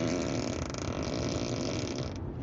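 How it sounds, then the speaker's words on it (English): A novelty gadget plays a fart sound effect, a continuous buzzy, rasping blast lasting over two seconds at steady loudness before cutting off abruptly, with no talk over it. "Here's the ludicrous fart."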